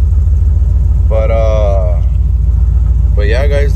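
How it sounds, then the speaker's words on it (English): A deep, loud exhaust rumble from a 454 V8 OBS Chevrolet truck with Flowmaster 44 series mufflers idles steadily up close while someone talks over it in two short bursts. "this exhaust is just way too loud"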